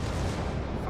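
Bismarck battleship's heavy guns in World of Warships fire in one deep, rumbling salvo that fills the short moment with a loud booming roar.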